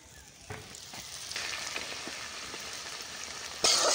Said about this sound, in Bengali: এখানে আমি 2টো ডিম ফাটিয়ে নিয়েছি, সবজির সাথেই খুব ভালো করে ভেজে নেব।